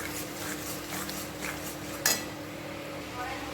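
Masala for butter chicken being stirred and fried in a pan on low heat, a steady soft sizzle with spoon scrapes and one sharp metal clink partway through.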